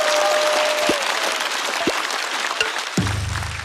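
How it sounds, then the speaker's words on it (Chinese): Studio audience applauding comedian Xiao Pa on a stand-up comedy show, sustained crowd clapping throughout, with a few brief tonal stings and a low musical tone entering near the end. "再次掌声送给小帕"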